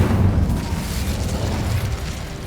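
A fire spell blast in a Harry Potter video game erupts as a loud, close, rumbling boom that roars on for a couple of seconds without speech.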